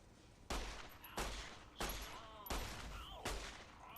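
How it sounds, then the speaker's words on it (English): Enemies fire guns in the video game Fallout New Vegas, five sharp, loud shots spaced roughly evenly, each followed by a ringing decay, with no talk. "I see you firing things at me"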